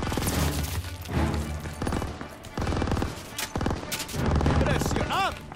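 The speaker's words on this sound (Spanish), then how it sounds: "¡Ametralladora, salid de la calle!" Bursts of machine gun fire and other gunshots crackle in urban combat in Aachen in the video game Call of Duty WWII. They come in rapid volleys between shouted voices.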